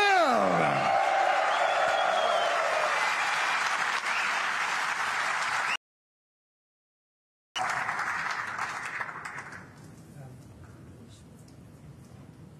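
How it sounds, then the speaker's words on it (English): A large snooker crowd at the World Masters of Snooker 2024 final applauds and cheers loudly for Luca Brecel, with whoops rising over the clapping, then it cuts out and returns, fading into scattered crowd noise. "Please give it up, make some noise for the Belgian Bullets, Luca Brecel!"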